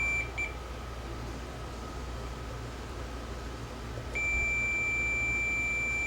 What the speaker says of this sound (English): One of these will beep.